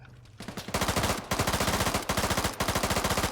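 Rapid automatic gunfire from a submachine gun such as a PPSh in the military shooter Antistasi Ultimate, set in Takistan: loud, close, sustained bursts with a steady rattling rhythm and brief pauses between volleys.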